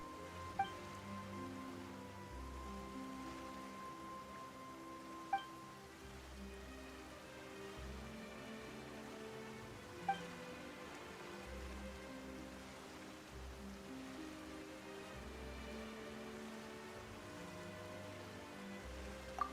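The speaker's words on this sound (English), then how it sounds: "Why is it raining all of a sudden?" Steady rain falls in Genshin Impact, a soft continuous patter with a few faint chimes and a low game score beneath.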